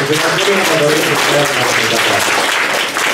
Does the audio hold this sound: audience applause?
yes